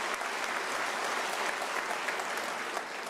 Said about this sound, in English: I request you to give them a round of applause.